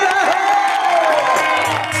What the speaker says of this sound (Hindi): ए तनी जोरदार ताली हो यार